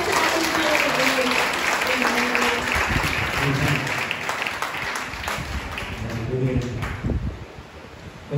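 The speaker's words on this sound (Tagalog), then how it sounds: "isang malakas na palakpak para sa ating Panginoon" A church congregation at a Sunday service breaks into applause, a dense, steady wash of clapping that tapers slightly toward the end, with a voice talking over it.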